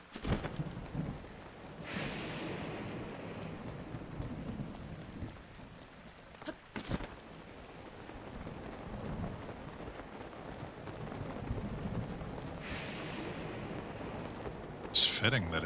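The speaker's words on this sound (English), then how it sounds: "fitting that it's raining" Rain falls steadily in a Zelda: Breath of the Wild game world, a faint, even hiss with a few rumbles of thunder and some brief game sounds, and a voice speaks over it in places.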